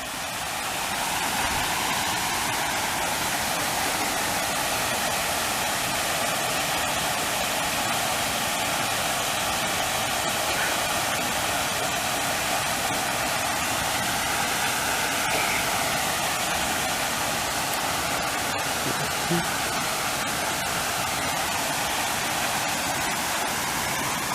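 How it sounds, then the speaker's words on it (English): Water running down a small water slide at a resort pool, a steady broadband rushing and splashing that continues unbroken for the whole stretch, fairly loud and close. "There's a small water slide over here."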